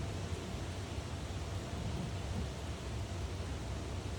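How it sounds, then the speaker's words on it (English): Steady rain falls outside, a dense continuous hiss with a deep low rumble underneath, unbroken and even for the whole stretch with no voices. "Listen to the rain."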